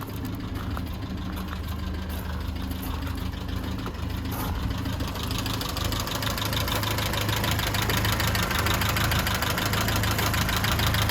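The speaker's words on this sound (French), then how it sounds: "Et bien sûr, on va vous montrer le moteur tournant." A 1937 Peugeot 402 Eclipse engine idles steadily, a low continuous rumble with a fine, even mechanical patter on top that holds at a constant level throughout, with no voices heard.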